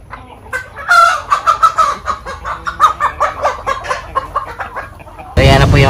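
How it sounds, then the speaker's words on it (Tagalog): At a gamefowl market in General Santos City, nearby roosters crow and cluck in loud, repeated bursts, with a fresh crow at the very end. "So yan na po yung ating mga manok katambayan."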